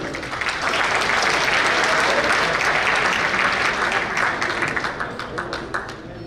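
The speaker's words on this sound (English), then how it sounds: "Big round of applause for Pritam." Banquet audience at a cricket club awards night giving a big round of applause, loud dense clapping that tapers into scattered individual claps toward the end.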